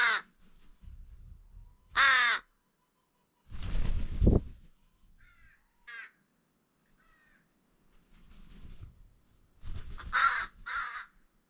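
Crows near stored cat food give several loud, harsh caws in separate bursts with quiet gaps between them, some close and overlapping.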